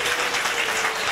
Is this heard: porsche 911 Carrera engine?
no